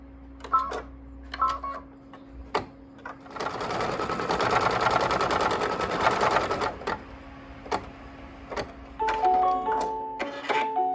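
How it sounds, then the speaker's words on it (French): An embroidery machine stitches the outline of a hat in a dense, rapid mechanical chatter for a few seconds, bracketed by sparse clicks, beeps and short electronic tones from the machine before and after. "J'ai remis le cadre à la machine, j'ai changé la couleur du fil pour broder le contour du chapeau."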